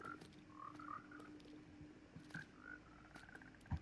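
Frogs at a frog farm in a Minecraft-style survival game croak in short, faint chirping bursts, a few calls spaced irregularly over a quiet ambient background.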